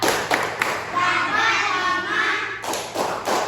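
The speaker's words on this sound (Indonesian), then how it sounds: "Tepuk simbol Pancasila." Rhythmic hand clapping for a Pancasila symbol clap game in a classroom, a series of sharp claps and taps in a patterned beat, with children's voices chanting between and under them.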